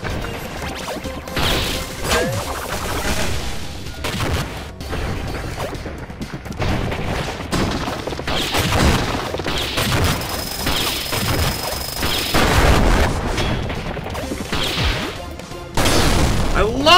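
Bomb blasts and fighting noise in a co-op boss battle in the video game Iconoclasts: repeated crashing booms and whacks, with whooshes in between, loud over a busy game soundtrack.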